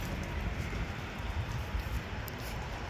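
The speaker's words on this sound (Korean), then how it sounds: "비가 오네" Steady rain falling outdoors near a port international passenger terminal, a dense continuous hiss with faint patter and no pauses, fairly close and even throughout.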